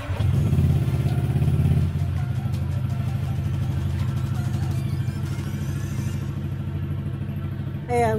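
Honda Click scooter fitted with an open Akrapovic exhaust idles loudly close by, a rapid pulsing putter that is strongest at first then settles steadily, with someone talking over it.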